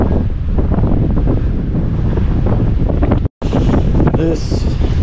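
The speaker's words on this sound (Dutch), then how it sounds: "je waait hier uit je hempie" Strong wind by the sea at Tarifa buffets the microphone with loud, continuous roaring gusts, broken by one brief cutout; a voice is heard faintly beneath.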